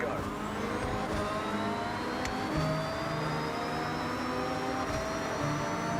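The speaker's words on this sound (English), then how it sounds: "Get your revs up, and on green, release the handbrake and go" In the Forza Horizon video game, a car engine revs hard and launches from a standing start, a loud, sustained roar with pitch rising through the gears and one brief sharper burst partway through.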